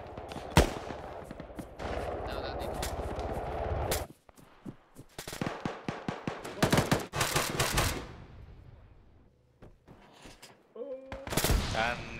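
Arma 3 military battle with a T-14 tank nearby: dense bursts of automatic gunfire and single shots in rapid clusters, loud and close, with pauses and a heavy boom toward the end.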